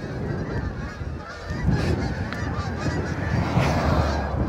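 A flock of geese flies overhead, honking in repeated loud, nasal calls that overlap and keep coming over a rushing background of wind and road noise during a ride up a hill on School House Road.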